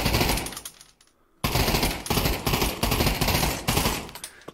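Full-auto fire from a new weapon in the Pavlov VR shooting game: loud, close bursts of rapid gunshots, one burst, a short pause, then several more bursts in steady succession.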